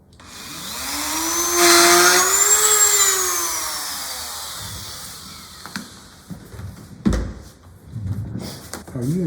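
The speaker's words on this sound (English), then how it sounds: "Are you intentionally drilling that on an angle also?" A drill bores a small hole into a wooden scroll saw inlay piece. The motor's whine swells loudly, then slowly fades, followed by scattered knocks and handling clatter.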